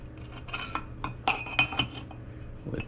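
A part clicks into place during a K20 transmission install on an engine, heard as a few light metallic clinks and taps close by, short and fairly quiet.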